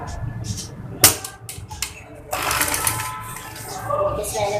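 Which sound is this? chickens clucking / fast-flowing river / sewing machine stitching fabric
sewing machine stitching fabric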